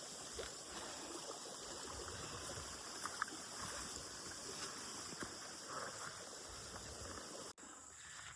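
A forest stream on Nuwaragala rushes and cascades during heavy rain in a steady, dense, continuous roar that cuts out briefly near the end.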